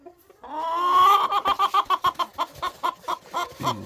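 A rooster lets out a loud, close crow that breaks into a rapid run of rhythmic clucks from the noisy flock, with no talk.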